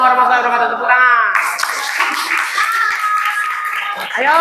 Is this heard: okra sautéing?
no